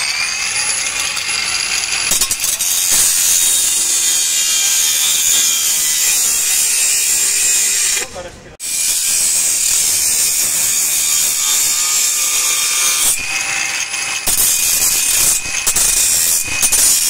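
A cordless lithium-battery handheld angle grinder cuts steadily with a loud, bright, sustained whine, briefly dropping out near the middle before resuming, heard close with no speech.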